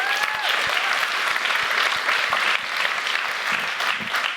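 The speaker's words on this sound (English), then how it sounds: "I want to ask you to give yourselves a round of applause for doing it." A workshop audience at a diversity and inclusion session claps for themselves in a full, continuous burst of applause lasting about four seconds.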